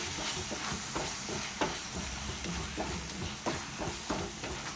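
Salt being stirred into a pan while cooking goat liver curry, with scraping spoon strokes over a steady sizzle of frying, close and fairly loud with no talk.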